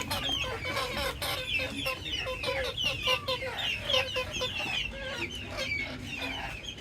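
Desi chickens cluck close by inside a coop, with a chorus of overlapping soft clucks and murmurs continuing steadily from several birds.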